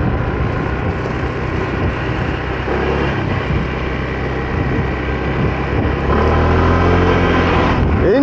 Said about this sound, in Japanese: エンジン音は結構大きいですよ。